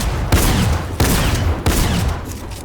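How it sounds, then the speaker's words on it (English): Gunfire cracking a player's shield in a Fortnite trio tournament match: three loud, rapid bursts of shots about two-thirds of a second apart, each a sharp broadband hit with a short tail, with no talk over them. "You hear the shield get cracked."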